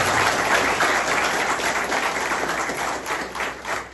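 Audience applauding a speech by a new departmental health director in Haiti's Northeast, dense continuous clapping at close range throughout.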